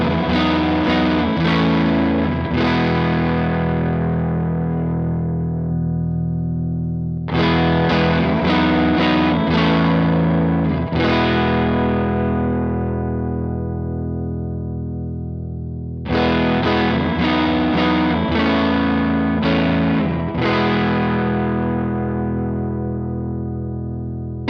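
An overdriven electric guitar through a Donner Dumbal Drive pedal in mode 1 plays three strummed phrases of quick chord hits, each left ringing and decaying, loud and close, with no talking.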